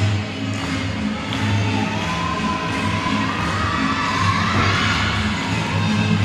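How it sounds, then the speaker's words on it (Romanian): Supporters in gymnastics arena stands clap and cheer in a steady, dense wash of crowd noise with scattered shouts and whoops, continuous throughout at moderate loudness. "încurajată cu aplauze din tribune"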